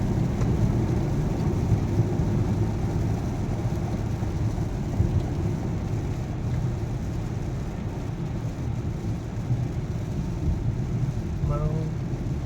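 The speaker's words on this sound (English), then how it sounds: "rain is little bit lighter than 10 minutes ago" Steady rain falling on the road during a drive in Dubai, heard from inside the car as a constant wash over low road and engine rumble, loud and unbroken throughout.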